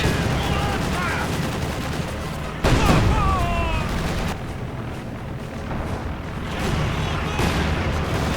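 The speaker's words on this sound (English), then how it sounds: "IS-2 tearing into German infantry, who's only equipped with a single anti-tank rifle to really damage it" Dense, chaotic battle noise from a video game, with an IS-2 tank attacking German infantry: continuous gunfire and heavy booms layered together, with a sharp louder burst partway through and a narrator's voice under the din.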